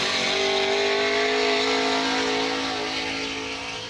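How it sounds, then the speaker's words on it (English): A supercharged Vortex drift car on Falken tires with a Borla exhaust screams around a qualifying track, its loud, sustained engine note holding steady and then slowly fading as it pulls away. "Powering down, Ryan, looks like this Vortex supercharged vehicle could be bettering that 70"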